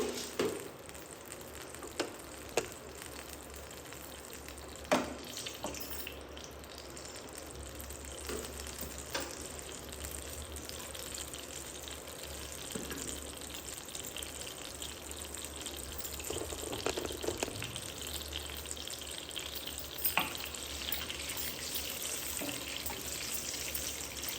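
Oil tempering urad dal, mustard seeds and cumin on a stove for a ridge gourd peanut chutney, a faint, steady sizzle broken by occasional small pops and clicks.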